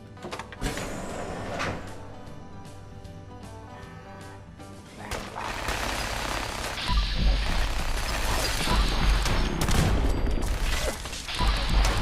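In the virtual reality game Fallout 4 VR, an overpowered gun fires in loud rapid bursts, with heavy blasts and mechanical clatter that grow denser toward the end.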